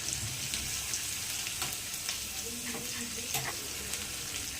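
Asafoetida tempering sizzles in hot oil with a soft, continuous crackling hiss and a few sharper pops, fairly quiet and close, with no voices.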